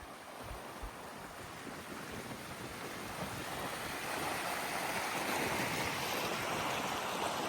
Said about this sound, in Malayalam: വെള്ളത്തിന്റെ ശക്തി കേട്ടോ